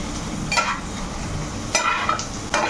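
Chicken pieces sizzle steadily in a pan, with three distinct scraping stirs of a utensil at irregular intervals over the constant frying hiss.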